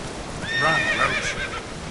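Horse whinnying loudly in The Witcher 3 video game, a single clear neigh rising and falling over steady game background sound, with no talking.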